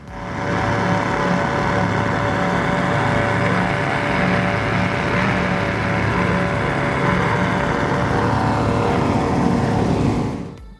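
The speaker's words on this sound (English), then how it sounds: "These are Ron Potter 700 horsepower motors" Ron Potter 700-horsepower motors on a 2003 powerboat at the Tampa Bay Poker Run roar loudly and continuously, a close and steady engine drone with no talking.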